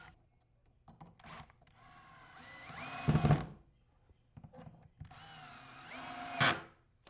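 A power drill drives 3-inch drywall screws into wood in two separate bursts, each a whirring rise in pitch that ends in a strained grind as the screw seats, with quieter handling noise between.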